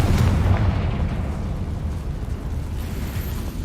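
Explosion from the Confringo fire spell in the Hogwarts Legacy game, a heavy booming blast whose low rumble fades slowly into a lingering roar over several seconds.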